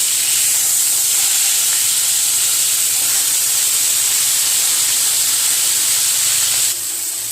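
Fish fries in hot oil in a pan, making a loud, continuous hiss and sizzle that holds steady throughout and drops off slightly at the very end.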